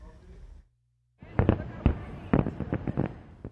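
Fireworks pop and crackle in a rapid, irregular string of sharp bursts after a brief silence. A voice can be heard just before the pops begin.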